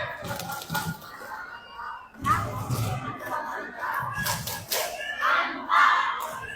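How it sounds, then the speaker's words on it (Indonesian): A crowd of women at a gathering performs a rhythmic clapping chant, with bursts of group clapping and shouted chanting rising and falling in loud waves. "Ibu-ibu, tepuk mantap dulu dong."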